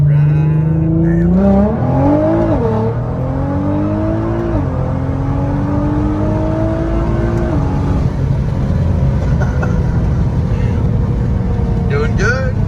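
A boosted 600 HP Nissan GT-R accelerates hard, its engine climbing through rising revs with quick shifts and loud, close intake and exhaust roar, with occasional talk from the cabin.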